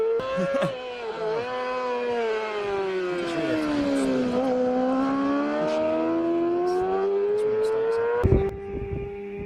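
Race motorcycle in the Senior Manx Grand Prix on the Isle of Man road course, a single bike's high engine note rising and falling as it nears and passes, ending with a sharp burst, with a commentator's voice faintly underneath.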